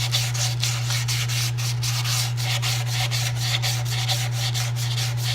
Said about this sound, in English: We're going to sand this through 320. Currently we're sanding at 220.